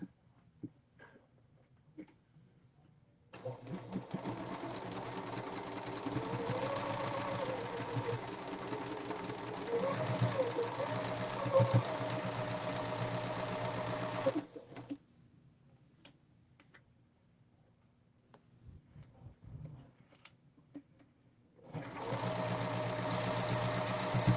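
A sewing machine runs a straight stitch along a quilt block, a steady close whirring for about eleven seconds, then stopping before starting again near the end.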